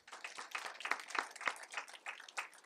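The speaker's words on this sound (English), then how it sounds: "I want to give you all a big round of applause for being here today as well." A summit audience claps briefly in a quiet, fairly distant patter of scattered hands, no one talking.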